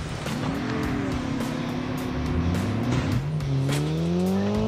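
A vehicle drives in Call of Duty Mobile, its engine droning steadily and loudly with shifting pitch as it accelerates throughout.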